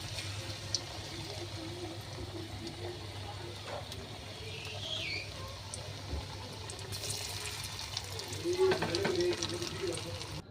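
Tomato slices and vegetables sizzle in hot frying oil in a continuous crackle that grows louder and busier toward the end, with some stirring, under light talk.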